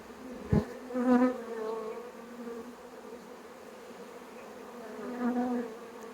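Honey bees buzz around an open hive, a soft, steady drone with a few louder passes close by.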